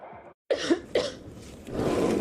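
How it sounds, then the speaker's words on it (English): Two sharp, harsh coughs from a person in a Robitussin commercial break out close and loud after a brief silence, followed by a wash of background noise. "that cough looks pretty bad"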